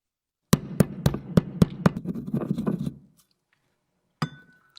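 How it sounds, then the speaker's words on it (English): Vitamin C pills being crushed: about eight sharp, evenly spaced hard knocks, then a brief grinding scrape, a pause, and one final knock, close and fairly loud with no talk. "all I have to do is crush them and mix them with water"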